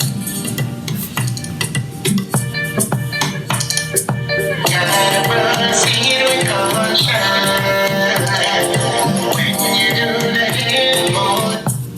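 Two songs play on top of each other at matched tempo, dense and loud, with a busier, brighter texture joining after a few seconds and running steadily to the end.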